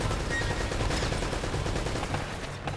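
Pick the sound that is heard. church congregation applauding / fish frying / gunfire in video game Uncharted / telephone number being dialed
gunfire in video game Uncharted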